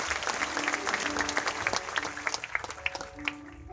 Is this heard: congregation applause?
yes